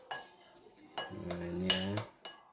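A metal spoon stirs a satay goat meat dish in a pan, sending out several sharp clinks and scrapes against the metal in irregular strokes, one leaving a ringing tone, close by and with no talking.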